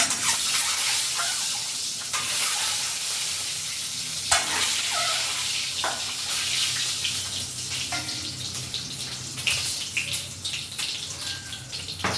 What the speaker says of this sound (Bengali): তেল গরম হয়ে গেছে, ডিমটা ভেজে নিচ্ছি